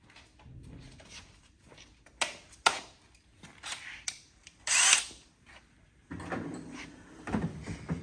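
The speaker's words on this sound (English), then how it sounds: "I'm going to have to use a hole saw." A power drill with a hole saw whirs in short bursts with pauses between, mixed with clunks and scraping handling noises nearby.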